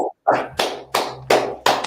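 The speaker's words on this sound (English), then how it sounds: "All right, clap it up." A group claps in unison at the close of a Feast of Unleavened Bread gathering, five sharp, evenly spaced loud claps in quick rhythm with no talking.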